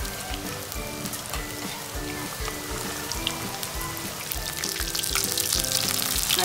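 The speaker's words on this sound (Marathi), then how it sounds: "तळून घेणार आणि थोडं ढवळत राहायचं, नाहीतर ते मशरूम एकाला एक चिपकतात।" Mushroom pieces fry in hot oil, a steady close crackling sizzle with intermittent scraping clinks of stirring and faint background music.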